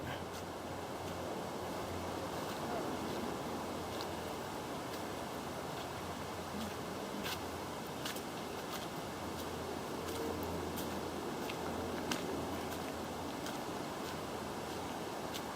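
A waterfall runs near the Gosford-Narara Railway Dams, giving a steady, even rush of falling water that fills the whole stretch, with a few faint clicks and no talking.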